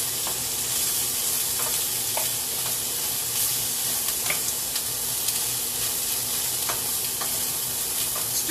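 Chicken stir fry sizzling loudly in hot oil, a dense, steady hiss broken by frequent small pops and crackles throughout.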